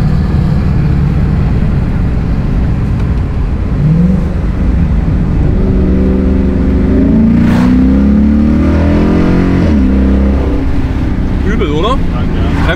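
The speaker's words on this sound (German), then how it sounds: "Mal gucken, ob man das Ansauggeräusch hört," Ford Mustang GT 5.0 V8 accelerating, heard from inside the car with a loud intake roar and engine note rising through the revs under heavy road and wind noise, with a voice talking over it.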